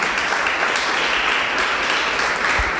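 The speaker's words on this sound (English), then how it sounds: "Can we give the Lord a round of applause for our Brother Manuel?" A church congregation gives steady, continuous applause, a dense wash of clapping hands that holds at an even level throughout.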